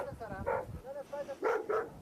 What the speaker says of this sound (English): when they encounter a large dog, the stress comes to a boiling point